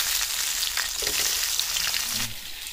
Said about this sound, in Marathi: आता ही मास आहेत ना आपण पलटी करून घेऊ, बघू कसं झालं